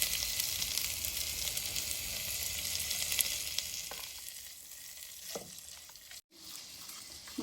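Onions, green chillies and curry leaves frying in oil for a South Indian paneer gravy, a steady close sizzle with brief clinks of stirring and a short silent gap near the end, no talk.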